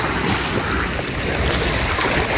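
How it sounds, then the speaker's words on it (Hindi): Water surging and crashing at the Ontario Place waterfront in Toronto, a loud continuous roar of surf and splashing rushing water, close by, with no voices. "पानी लेकिन कैसे ठाठे मार रहा है, पानी भी ज़ोर ज़ोर से आता है।"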